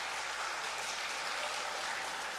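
A church congregation at a combined all-generations worship service applauds in a continuous, even wash of clapping, heard faintly from a distance with no pauses.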